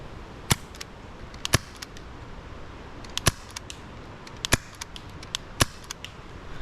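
A Novritsch airsoft pistol fires without a suppressor, producing about five sharp, close popping shots at irregular intervals, each followed by faint mechanical clicks against a quiet background.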